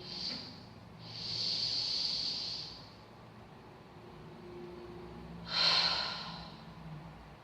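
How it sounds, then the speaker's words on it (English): Deep breaths during yoga practice: a long breath in, a pause, then a strong exhaled breath near the end, close and fairly quiet with no talking. "Big breath in."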